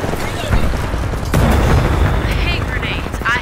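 Grenades exploding in a Titanfall 2 multiplayer match, a couple of loud close blasts amid continuous gunfire and game noise, with a voice talking over it.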